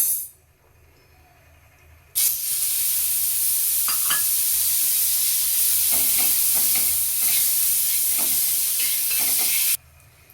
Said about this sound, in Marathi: आता आपल्याला याच्यामध्ये बटर सोडायचे